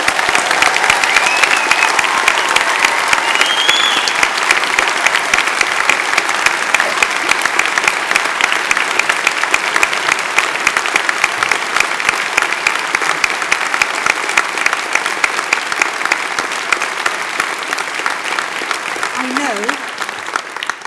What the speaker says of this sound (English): So I think it's time for one more big whoop and a cheer